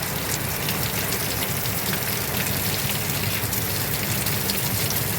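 Steady, dense, cold rain drums on a hard roof, a constant hiss and patter with no pauses and no voices.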